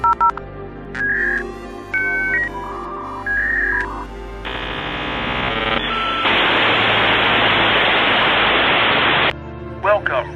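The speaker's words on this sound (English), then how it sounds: "noisy dial-up connection." A dial-up modem connects to the internet: a run of dial tones, then high handshake tones and a long loud hiss of static before it cuts off, close and alone.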